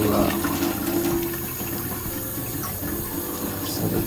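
Water flows and trickles steadily through a gravel bed in a rain-gutter aquaponics setup fed from a fish pond, a continuous close rushing sound with no talking.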